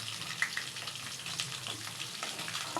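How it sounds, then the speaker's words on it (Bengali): Hilsa fish fries in a pan with a continuous, fairly loud sizzle and light crackles, plus faint stirring or utensil sounds. "মাছ আমরা এখন তুলতেছি ভাজা শেষের দিকে"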